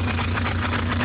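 A tractor engine idles steadily, a low rumbling drone with a regular pulsing hum, close and loud with no speech over it.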